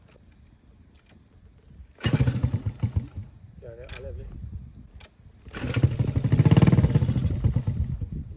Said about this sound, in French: le moteur il start super bien en idle